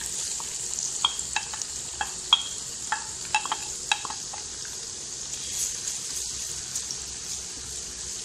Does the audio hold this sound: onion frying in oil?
yes